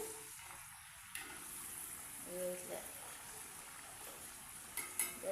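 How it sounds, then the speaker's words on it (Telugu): Sakinalu, Telangana rice flour snacks, fry in hot oil with a soft, steady sizzle and bubbling, faint and continuous, while someone talks quietly over it. "ఇట్లా గోలాలి గోలుతున్నాయి ఇంకా గోలలేవు జర గోలినాక మళ్ళీ మళ్ళీ వేయాలి"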